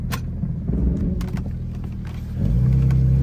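A 30-year-old Jeep ZJ driving up a residential street, its engine giving a loud, rough, steady rumble that swells into a stronger, deeper drone near the end.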